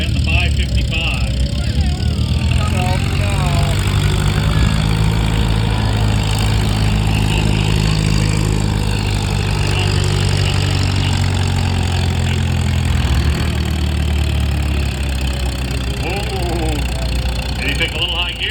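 A pulling tractor's engine roars steadily and loudly at a tractor pull, a dense continuous drone that keeps going throughout with people talking faintly underneath.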